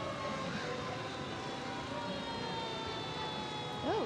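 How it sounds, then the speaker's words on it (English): A siren wails steadily in the distance under a broad outdoor crowd murmur at the 2016 Winnipeg Santa Claus Parade, with a rising whoop near the end. "sirens again."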